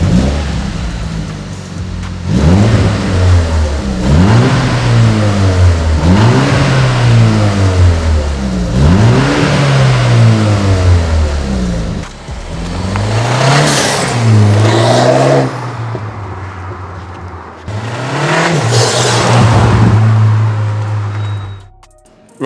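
A BMW G21 330d Touring diesel fitted with an Eventuri intake and a Remus exhaust revs repeatedly, its engine note rising and falling in a loud, close, rhythmic series of throttle blips, then two longer sweeping revs.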